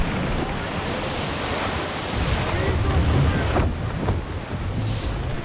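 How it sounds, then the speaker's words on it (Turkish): Steady wind rushing over open sea in the video game Assassin's Creed IV, a continuous broadband roar with surf-like swells, fairly loud and unbroken throughout with no speech. "Rüzgar ters esmeye başladı."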